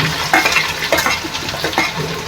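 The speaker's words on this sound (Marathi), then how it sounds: "आता कांदा घालूया एक कांदा कापलाय बारीक" Chopped onion frying in oil in a pan while being stirred, a steady close sizzle broken by repeated scraping stir strokes, with no talking, for a dried Bombay duck masala.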